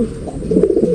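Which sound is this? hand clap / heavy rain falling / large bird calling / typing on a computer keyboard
large bird calling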